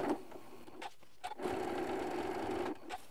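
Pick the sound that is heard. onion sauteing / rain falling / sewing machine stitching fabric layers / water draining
sewing machine stitching fabric layers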